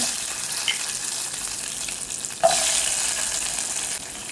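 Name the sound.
mustard seeds sizzling in hot ghee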